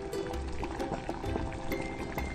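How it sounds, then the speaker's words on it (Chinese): Clams braising with Shaoxing wine in a covered pot give off a steady, close bubbling simmer with soft liquid gurgles and faint pops throughout, and no talk. "将沥干水分的蛤蜊倒入锅中，翻炒几下后淋入绍酒，加盖焖烧一会儿"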